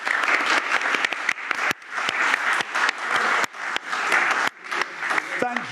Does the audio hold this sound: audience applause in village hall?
yes